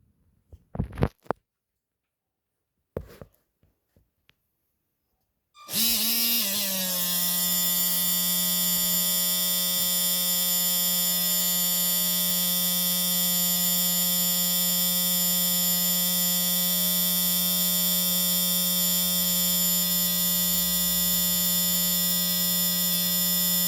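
A small gear pump filling the ballast of a 1/72-scale radio-controlled Suffren submarine model, starting after a few short clicks and then running as a steady, loud electric whine and hum without a break.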